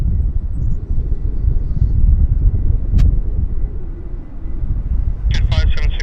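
An airliner rolls for takeoff at Vancouver airport, giving a loud, steady low rumble with wind noise. Voices talk over it, with a brief click partway through and a burst of chatter near the end.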